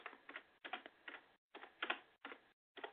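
Keystrokes on a computer keyboard, tapped in short bursts of several quick clicks separated by brief pauses, close and fairly quiet, no voice.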